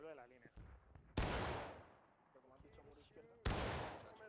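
Two single aimed musket shots in the War of Rights video game, each a sharp loud crack with a fading echo, spaced about two seconds apart, with someone talking between them.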